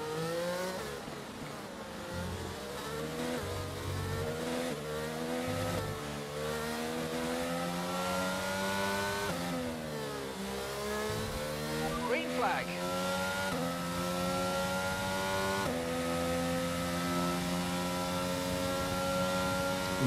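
Formula 1 race car engine in the F1 22 video game, a loud, continuous high-pitched whine that climbs and drops sharply with each gear shift and throttle change for the whole stretch.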